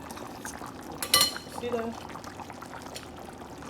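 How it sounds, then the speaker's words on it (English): Water is poured into a pot of egusi sauce with chicken in a short splashing burst, while a person talks over the cooking. "That's why we're adding a lot of water to the sauce."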